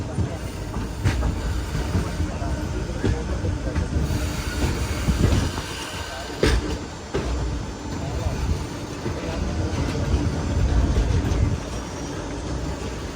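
The Ernad Express rolls through a busy railway station, its wagons rumbling steadily with sharp wheel squeals and clattering joints, close and loud, while voices talk over the train noise.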